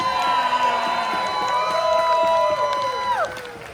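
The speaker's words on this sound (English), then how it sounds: "Please give your biggest, loudest, most raucous round of applause to everybody on the stage." Audience at a steampunk costume contest cheers loudly, with whoops and shouts forming a dense, sustained roar close to the stage for the whole stretch.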